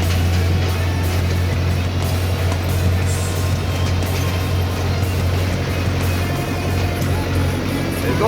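Old Fiat tractor, a Swiss-built model from around 1966–70, driving along a road in third range, its steady low engine drone continuous and close throughout with no talk.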